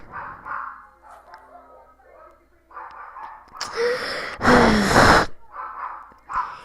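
A female dog gives a few short barks and snorting breaths up close, mixed with loud breathy bursts and brief human vocal sounds.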